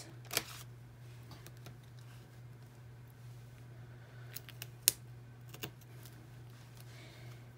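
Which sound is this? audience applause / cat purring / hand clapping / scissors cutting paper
scissors cutting paper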